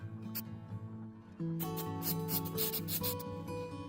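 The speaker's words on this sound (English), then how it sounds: "Now I start sanding the surface, beginning with 240 grit and working my way up to 400." Dry sanding of an epoxy and pine cone fountain pen blank spinning on a lathe, starting at 240 grit: a close, steady rubbing hiss over a humming motor, growing louder and harsher partway through.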